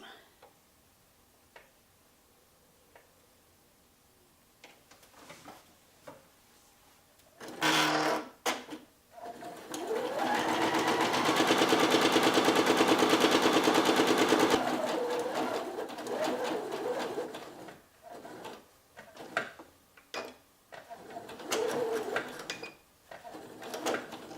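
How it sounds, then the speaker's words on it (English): Sewing machine running a seam along the side and bottom of a fabric produce bag for celery, a loud steady whirring burst of several seconds, framed by fabric handling, clicks and scattered taps. "So we'll be sewing down the sides and the bottom twice."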